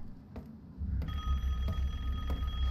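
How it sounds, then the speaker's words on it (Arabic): A telephone rings in the horror video game Resident Evil 8, its bright, steady tone starting about a second in and sounding in repeated bursts over a low, dark ambient rumble. "جانا التليفون شباب."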